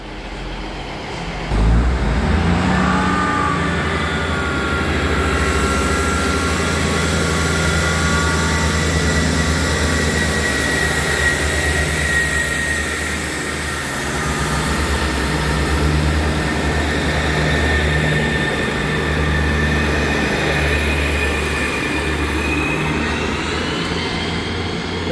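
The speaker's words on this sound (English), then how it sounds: "There goes 158 777 and 158 785 working the 1517 even East Midlands Railway service to Liverpool Lime Street." A pair of East Midlands Railway Class 158 diesel units running through Chesterfield, a steady loud drone with low engine hum and rail noise that builds quickly and holds throughout, close by.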